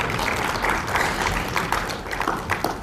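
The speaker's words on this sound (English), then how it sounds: "And a round of applause for the Vice President of the National Assembly of Chad." Applause from an assembly audience at a Pan-African Parliament session honoring the Vice President of Chad's National Assembly, steady dense clapping throughout at moderate loudness.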